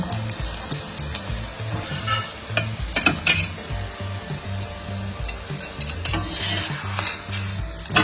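Masala rotlo, a Kathiyawadi flatbread, sizzles in oil on a griddle with a steady crackling fry, while a utensil scrapes and stirs in a regular rhythm and metal clinks now and then.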